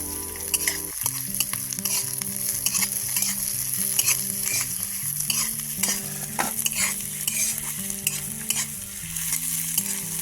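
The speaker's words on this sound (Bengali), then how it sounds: "ক্যাপসিকাম আর পেঁয়াজটা আমি হালকা হালকা করে ভেজে নিচ্ছি।" Chopped capsicum and onion fry in a pan, giving a continuous close sizzle broken by scraping stirs, with music playing underneath.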